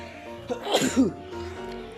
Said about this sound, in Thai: จามครับ